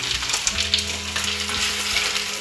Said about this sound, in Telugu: ఇప్పుడు అన్నీ కలిసిపోయేలాగా తిప్పుకుందాం